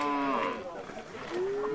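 Purebred trypanotolerant cattle let out a couple of drawn-out, low harmonic moos, one at the start and another rising call near the end, moderately faint.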